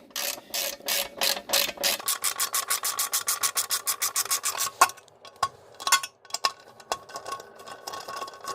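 A hand ratchet snugging small E-Torx bolts with an E10 socket during a 2012 Chevy Equinox engine rebuild, rapid close clicking strokes in bursts, slowing into scattered clicks and taps.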